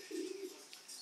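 Racing pigeons at a breeding loft give a soft, low coo that sits over a steady hiss of background noise.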